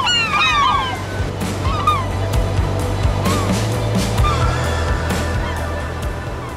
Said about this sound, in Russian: Чайки кричат, защищают своих птенцов.